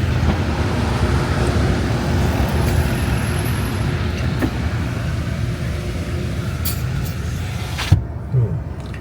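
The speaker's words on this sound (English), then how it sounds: "This traffic sucks." Steady road traffic drones on a hot evening street, engines and tire roar forming a continuous wash, with a sharp knock near the end.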